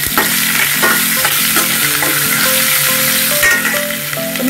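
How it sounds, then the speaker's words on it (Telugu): Thinly sliced onions frying in oil with dried chillies and curry leaves, a loud, steady sizzle close up, with stirring scrapes and clinks of a spoon against the pan throughout. "సన్నగా చీలికలుగా కట్ చేసి పెట్టుకున్న ఉల్లిపాయ ముక్కలు వేసేద్దాం."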